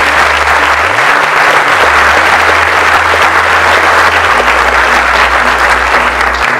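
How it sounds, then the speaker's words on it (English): Steady, dense applause from an audience at a high school awards and scholarship ceremony, loud and continuous throughout with no break. "So please have a round of applause for us."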